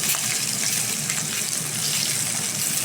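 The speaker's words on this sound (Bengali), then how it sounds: "ভাজা হচ্ছে।" Spiced pangas fish pieces, coated in chili, turmeric and salt, half-frying in hot oil, a loud continuous bubbling sizzle at steady level without talk.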